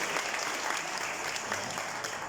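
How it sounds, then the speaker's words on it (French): Steady, dense applause from an audience at a L'Oréal hair-care launch evening honoring Miss Univers, a continuous even patter of many hands clapping throughout, mid-distance with no break. "on peut l'applaudir"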